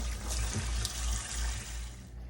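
Collard greens washed in a sink of water, with soft continuous sloshing and splashing under a low rumble and a few brief splashes, fairly quiet throughout.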